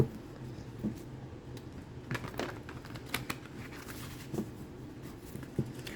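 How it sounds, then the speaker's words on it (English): Tarot cards being shuffled by hand, a soft, continuous riffling and patter of card stock with scattered sharper clicks and flicks, close and fairly quiet, with no talking. "I'm just going to shuffle the cards here."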